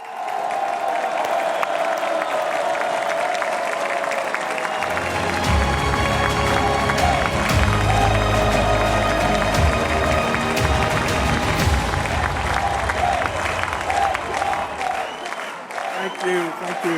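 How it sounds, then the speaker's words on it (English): A large conference audience breaks into sustained, loud applause to welcome former FBI director Judge Louis Freeh, swelling into a dense roar of clapping that continues steadily for many seconds. "Please do put your hands together. Join me in welcoming Judge Looey Free."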